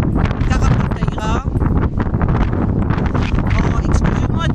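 Heavy wind buffeting the microphone on the Portuguese coast near Carrapateira, a loud continuous roar and rumble throughout with no break.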